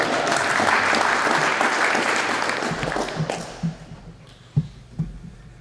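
A small group at a business association meeting claps for a few seconds in a brisk, fairly close round of applause that thins out into a handful of scattered claps and thumps.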